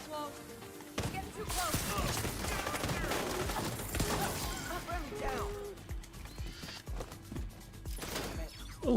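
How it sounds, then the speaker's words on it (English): Pistol shots fired in The Division 2 (Season 11, TU17.3) during a boss fight, sharp repeated cracks spread irregularly across a dense backdrop of game effects and crashing impacts, loud and close. "And then you go to your pistol."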